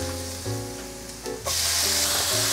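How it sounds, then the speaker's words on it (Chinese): Diced tomatoes are stir-fried in a pan for a vegan cabbage dish. A soft sizzle runs under a tonal background and jumps into a loud, hissing fry partway through. "把番茄炒软"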